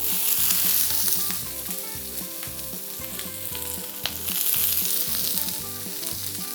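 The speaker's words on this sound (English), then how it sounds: "And then we'll just take our peppers and onions and get them on the saute." Peppers and onions saute in olive oil in a hot pan, giving a loud, steady sizzle that runs throughout, with rhythmic, music-like tones underneath.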